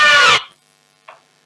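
A short DJ scratch sample from a scratch starter kit, played on a scratch deck: one bright, squealing burst lasting under half a second, then a brief faint chirp after a pause, with silence around it.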